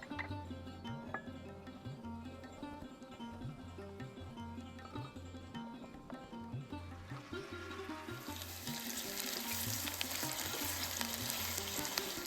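Vegetables such as bitter gourd and potato dropped into hot mustard oil for shukto, starting as a faint quiet crackle over background music and swelling into a louder, steady hiss of frying in the latter part.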